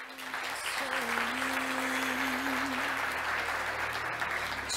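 Sustained audience applause at a Montreal tech awards event for finalists from a secondary school, loud and steady throughout, with a faint melodic voice briefly rising over the clapping.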